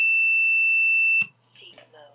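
A piezoelectric buzzer on a Kiss flight controller sounds a loud, continuous high-pitched beep for just over a second, then cuts off before a voice starts speaking.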